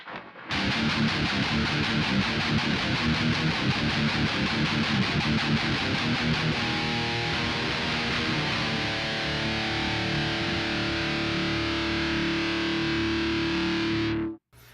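Electric guitar through a Dead Horse Overdrive pedal with all three knobs at full, played with a Kemper: loud, gritty strumming that gives way to a long, sustained chord ringing out before it cuts off.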